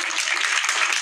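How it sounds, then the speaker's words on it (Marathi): An audience at a Ganesh festival singing competition gives a brief burst of dense applause for a young fifth-grade girl singer. The clapping is loud and sustained for its short length. "तिच्यासाठी एकदा जोरदार टाळ्या"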